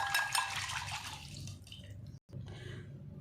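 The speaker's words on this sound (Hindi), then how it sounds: "अब इन तीनों चीज़ों को हम अच्छे से फेंट लेते हैं" Eggs, oil and sugar are whisked together for pancake batter, giving a steady wet sloshing and clicking that runs throughout with one brief break near the end.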